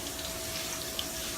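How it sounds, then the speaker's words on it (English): A thin stream of water poured into a pot of meatball pasta sauce, a steady close trickle lasting just over a second with no talking. "Put very little bit of water."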